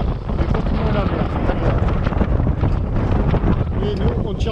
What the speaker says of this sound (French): le vent rentre toujours évidemment, on est complètement à la mer